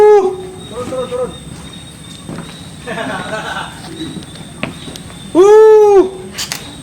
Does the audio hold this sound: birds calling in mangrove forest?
yes